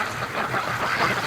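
A free-range Muscovy duck lands in a snowy yard, giving short, rough quacks over outdoor background noise.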